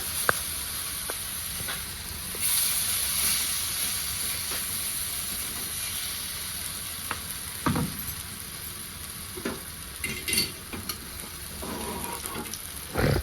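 Peas vada batter fries in oil on a hot, shallow concave griddle (tawa). A constant bright hiss runs throughout, broken by intermittent scraping and tapping of a utensil.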